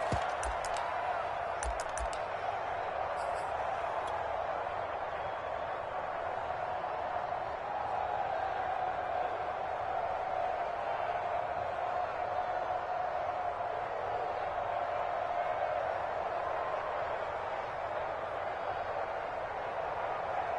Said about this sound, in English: as this crowd rises to make things difficult